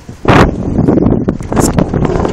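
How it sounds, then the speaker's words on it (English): Gusty wind buffets the microphone in loud, rumbling bursts, with a rough roar that swells and fades. "It's kind of windy"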